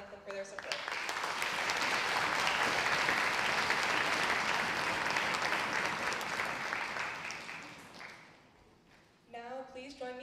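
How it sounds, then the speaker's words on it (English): Full, steady applause from a school orchestra spring pops concert audience fills the hall for about eight seconds, then fades out as a single voice begins speaking. "So please join me in a round of applause to thank them for their support."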